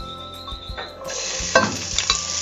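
Finely chopped onion dropped into olive oil in a pan, a quiet start with light clinks, then a sudden bright sizzle that bursts up and keeps crackling steadily close by, without speech.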